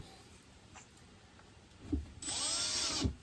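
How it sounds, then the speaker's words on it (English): A power drill enlarges bolt holes while casters are fitted to a guitar amp, a short near whir of about a second after a couple of soft knocks in a quiet room. "Just enlarge the holes a little bit."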